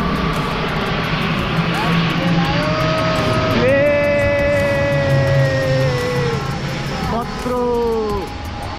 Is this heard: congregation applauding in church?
no